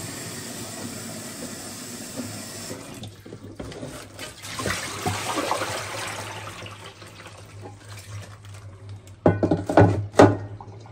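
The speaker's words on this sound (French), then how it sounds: "Je rejette l'eau." Soaking water is poured out from a container of dried fish into a sink, a splashing, irregular pour that swells and ends with a few louder gushes and drips, with no voices.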